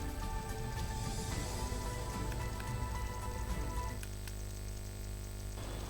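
Rain falling steadily in Bhavnagar during pre-monsoon showers, a dense constant patter with scattered drops striking a surface, no voices.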